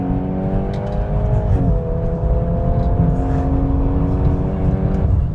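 A VW Golf R Mk 8.5 with four-wheel drive powers hard out of corners on a track, its engine note loud and close, droning and rising steadily with a brief dip as it shifts.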